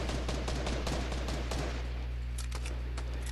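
Rapid gunfire from a sniper's match in Call of Duty Black Ops 4, a dense burst of sharp cracks over a steady low hum, continuing then thinning to a few louder separate shots near the end.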